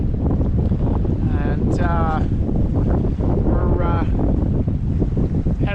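Evening wind buffets a sailboat heading toward Marathon in the Florida Keys, a constant loud rushing roar over the microphone with a voice speaking through it.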